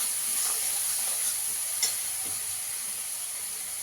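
Spices with ginger-garlic paste, turmeric and Kashmiri chilli powder sauté in oil, a steady hissing sizzle with faint stirring and one brief clink, close and even, with no speech.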